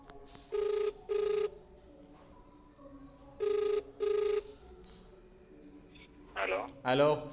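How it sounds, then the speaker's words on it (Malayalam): An outgoing phone call on speakerphone gives two paired ringback tones, a pause, then another pair of rings, steady and clear. A faint voice and a brief chirpy burst follow near the end. "ഞാൻ ജസ്റ്റ് എൻ്റെ കൂട്ടുകാരന് കോൾ ചെയ്തിട്ട് നിങ്ങൾക്ക് ക്ലാരിറ്റി കാണിച്ചു തരാം."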